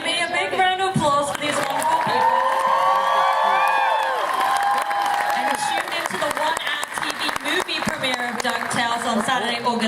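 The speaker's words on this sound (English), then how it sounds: "Give me a big round of applause for these wonderful people." Audience applause and cheering at a DuckTales panel at the D23 Expo, with whoops over steady clapping and music and voices mixed in throughout.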